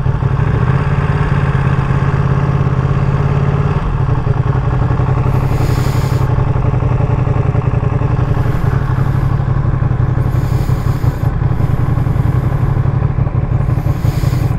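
A brand new 2023 limited edition Ducati Panigale V2 motorcycle engine runs close by with a loud, steady throbbing drone, holding a constant pitch with brief bursts of higher noise toward the end.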